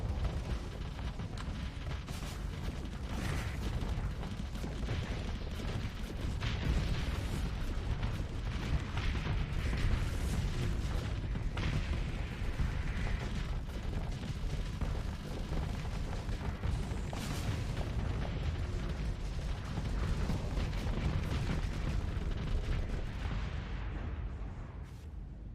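Bombing-run explosions rumble without pause in the space game Starsector, a dense stream of booms and bursts at a fairly low level that lasts the whole stretch and thins out only at the very end.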